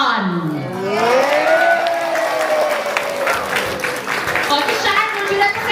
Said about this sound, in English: Let's all please give a round of applause